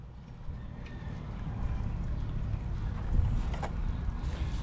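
An electric motor water pump runs for irrigating bitter gourd and chili plants, giving a continuous low rumble with rushing water and slight swells in loudness, without talk.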